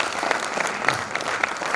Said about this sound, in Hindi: फिर से तालियां बजाएं।